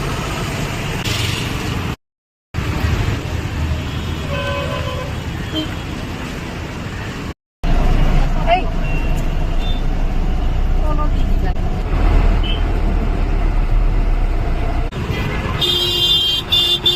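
Busy traffic rumbles continuously at Adabari bus stand in Guwahati, with engines idling and passing and a few short horn toots, the loudest near the end, under faint background voices.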